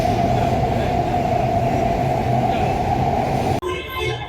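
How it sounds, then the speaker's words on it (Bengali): Kolkata metro train in motion, a loud steady rumble and hum of the carriage that fills the ride, then a sudden cut to a quieter, thinner wash near the end; no talking. "তো এখন যাই, মেট্রো ধরি, তারপর নামবো করুণাময়ীতে।"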